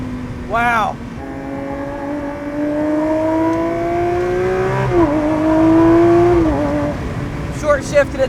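A sports car engine climbs steadily through the revs with a rising whine, drops briefly at a short-shifted gear change, then pulls again. The engine is loud and close, with a voice cutting in at the start and end.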